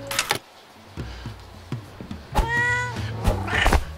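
A cat meows clearly once in the middle of Second Life game Fort Meow, amid scattered clicks and short sharp cries, with no talking.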